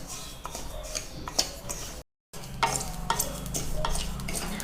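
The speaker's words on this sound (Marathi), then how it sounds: "आता ही आळीव भाजत आलेली आहे" Garden cress seeds, about 100 grams, dry-roasting in a pan while being stirred, giving a steady gritty scraping and light crackle that cuts out briefly for a moment of silence, then resumes at a similar level.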